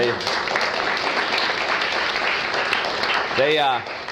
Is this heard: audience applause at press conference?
yes